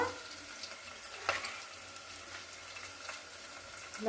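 Two green chillies frying in ghee for a quick masala carrot pulao give a soft, low sizzle with a few light spatula taps and scrapes, close but fairly quiet.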